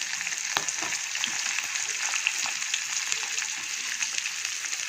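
Onions frying in a pan for hotel-style chicken kurma, a dense, even, continuous sizzle with light crackles and occasional stirring taps, close and steady throughout with no voices.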